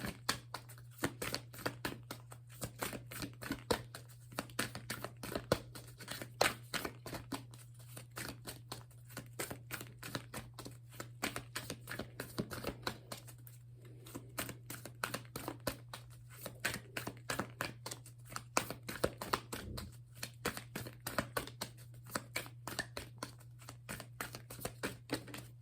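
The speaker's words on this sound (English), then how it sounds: "Okay, that was a lot of shuffling" A tarot deck is shuffled for a long stretch, giving quiet, rapid papery riffling and clicking over a low steady hum, faint and close.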